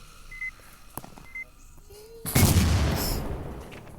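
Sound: explosion, from a video game

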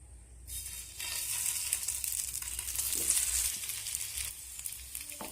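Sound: tiffin pieces shallow-frying in refined oil in frying pan

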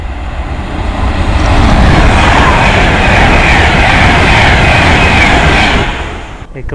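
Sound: London Liverpool train arriving

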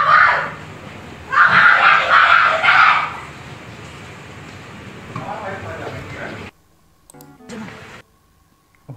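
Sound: woman screaming in prison

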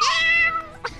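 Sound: cat meow, likely imitated, while playing Fortnite video game

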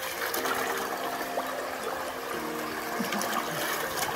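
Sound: running river water used for washing by the riverside

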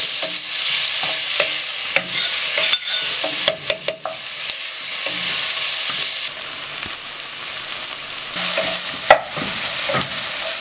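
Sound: stirring crushed ginger and garlic in a frying pan

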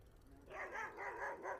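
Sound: dog barking

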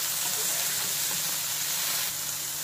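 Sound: cauliflower frying in a kadai

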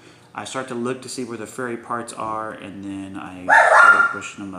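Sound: dog barking

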